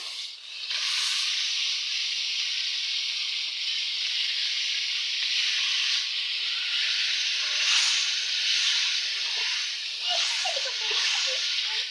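Chicken pieces dropped into hot spiced oil give a loud, steady hiss of sizzling and steam, close up and continuous throughout, with small crackles near the end.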